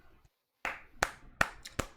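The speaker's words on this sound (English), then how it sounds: "He's going to clap." Four sharp hand claps ring out one after another at a steady, unhurried pace, following a brief lull, with no talking over them.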